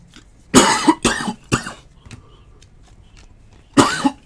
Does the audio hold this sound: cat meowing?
no